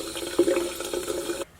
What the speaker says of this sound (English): I'm just going to add like maybe a little bit of water